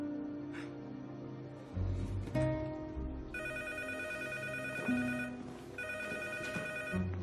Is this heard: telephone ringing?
yes